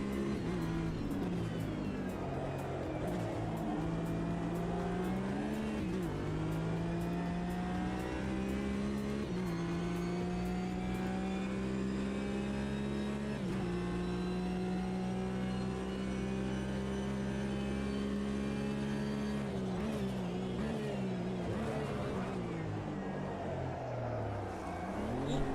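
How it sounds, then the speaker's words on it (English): A Porsche race car in the racing simulator Automobilista 2 accelerates hard, its engine droning steadily through gear changes, pitch climbing, dipping at each shift and climbing again, loud and continuous throughout. "This Porsche's got better acceleration."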